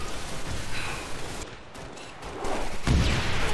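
Rockets fired at a Banshee aircraft in Halo: Reach, heard as dense, rumbling game explosions and bursts of fire that dip briefly, then swell with a loud blast near the end.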